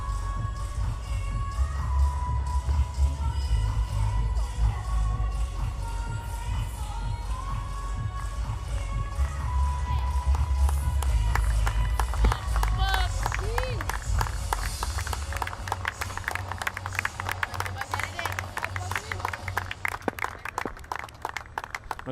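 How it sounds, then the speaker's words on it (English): Crowd at a women's Asia Cup cricket match between India and the UAE applauds batter Richa Ghosh as she comes in, a steady patter of clapping under continuous commentary, with some whistles rising near the middle. "she's been received with warm applause"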